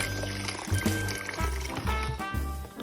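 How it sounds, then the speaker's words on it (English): Chilled water pours into a bowl in a home kitchen while making whipped cream, a steady liquid splashing and trickling close by with a few clunks of the container. "So this is very chill water I'm putting here"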